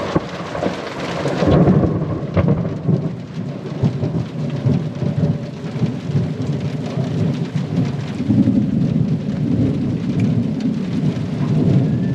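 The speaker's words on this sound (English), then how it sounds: "Well, that storm lasted about 2 hours." Heavy thunderstorm at a beach camp on the Gulf of Carpentaria: dense, steady rain drums on surfaces while deep thunder rolls and rumbles underneath, loud and continuous with no voices.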